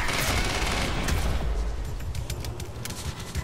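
Gunfire in the action video game Quantum Break: a loud, dense burst of rapid shots and booms that keeps roaring, then thins into sharper separate cracks over a constant background roar.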